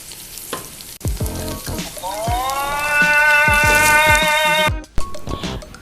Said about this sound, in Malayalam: അരി നന്നായി വറുത്തെടുത്തിട്ടുണ്ട്